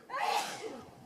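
A single sharp sneeze bursts out at close range, followed by a brief breathy trailing sound.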